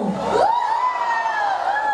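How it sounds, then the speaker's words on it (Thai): A fan crowd at a dance battle event cheers loudly, a sustained high whoop rising out of the mix and holding steady for the full two seconds with no talking. "พี่น่าจะบอกว่าภูมิใจมากกับเสียงโหนี้"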